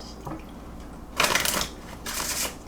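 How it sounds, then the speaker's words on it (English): A tarot deck being shuffled by hand: two bursts of riffling, crackling card noise, the first about half a second long and the second shorter, close and moderately loud against a quiet room with no talking. "As I shuffle the yes or no deck for you"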